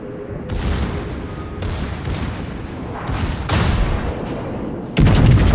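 Ship secondary guns firing repeatedly in World of Warships, a series of booming shots spaced about a second apart with a heavy, rumbling tail, ending in a louder, denser blast.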